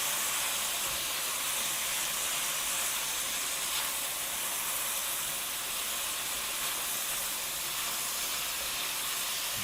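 Green beans bubbling at a low simmer in a honey garlic sauce, giving a steady, close hiss and soft sizzle that holds level throughout with no talking.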